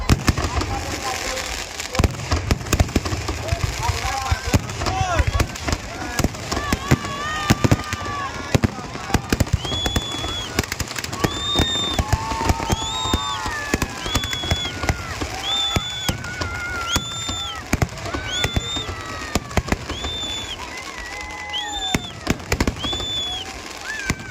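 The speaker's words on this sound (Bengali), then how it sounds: "তো আতসবাজি প্রদর্শনী এখানে শেষ হলো" Fireworks crackle and pop repeatedly at the KTPP fair in Kolaghat, with whistling rockets rising and bursting amid a noisy crowd and people talking nearby.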